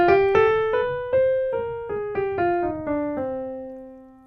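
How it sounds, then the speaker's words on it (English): A melodic minor scale played on a single sustained-tone instrument, about ten clear notes rising then falling stepwise in an even rhythm, close and alone with no voices. "A melodic minor scale sounds like this."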